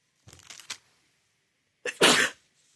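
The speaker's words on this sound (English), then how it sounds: "I was trying to pause the video before I sneezed." One person sneezes sharply and loudly at close range, alone in a quiet room. It comes just after a short, softer intake of breath.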